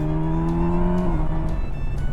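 A Kawasaki Versys 1000 SE motorcycle engine pulls hard to overtake, a loud rising drone that shifts pitch partway through as it accelerates, heard close over steady wind noise.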